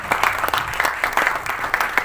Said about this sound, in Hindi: तालियां एक बार।